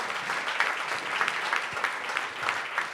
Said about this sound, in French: Une bonne main d'applaudissements pour nos invités.